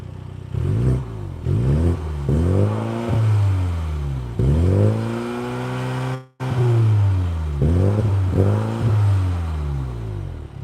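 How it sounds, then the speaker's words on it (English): A 2020 MINI John Cooper Works GP engine revved hard several times in short rising and falling bursts, loud and close, with a brief cut-off near the middle before more revs follow. "Can I give it some revs? Yeah, give it a couple reps."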